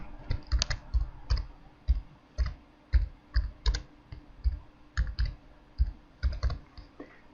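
Fingers tap out a name on a computer keyboard in irregular bursts of crisp, close key clicks, with short pauses between clusters.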